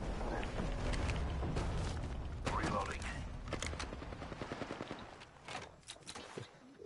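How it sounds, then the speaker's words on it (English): Rapid automatic gunfire from the Apex Legends video game rattles in sustained bursts, loud and dense at first, then breaking into quicker stuttering volleys and scattered shots, with a voice speaking over the fighting. "Taking fire."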